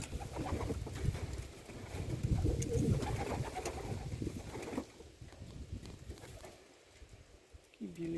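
Pigeons coo in low, throaty murmurs close by at a pigeon loft, overlapping in soft bursts amid faint rustling and background noise.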